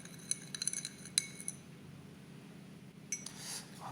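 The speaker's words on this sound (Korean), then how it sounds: "넣었고 유리막대로 저어 주겠습니다" A glass rod stirring in a glass cup, several quick high clinks and taps in the first second and a half, another clink later, then a soft rustle, quiet with no talk.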